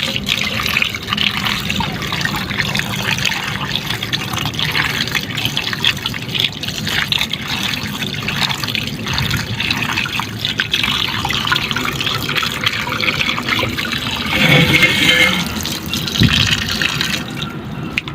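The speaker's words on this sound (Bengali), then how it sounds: "এরপর আমি মাছগুলো ভালো করে ধুয়ে নেব।" Small mourala fish washed by hand under a running kitchen tap: a steady, close splashing stream of water with sloshing and a brief heavier gush near the end, with no voices.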